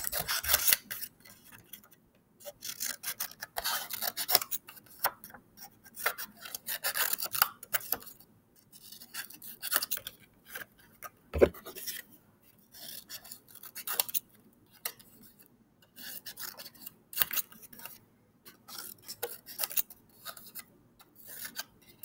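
Scissors snipping through paper at a table during a children's art activity, a series of close, crisp rasping cuts in irregular bursts with short pauses, no talking.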